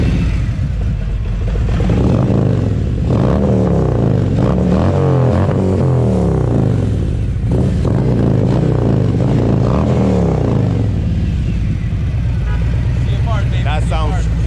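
Harley-Davidson CVO motorcycle engine idling and rumbling, a loud, continuous deep throb with slight swells in intensity, close by, with a voice briefly heard toward the end.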